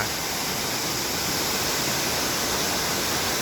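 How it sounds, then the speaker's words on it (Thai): Mae Sa Waterfall in Chiang Mai, Thailand, roars steadily, a dense unbroken rush of falling water filling the whole scene at constant loudness. "นี่ครับ ภาพบรรยากาศน้ำตกแม่สา"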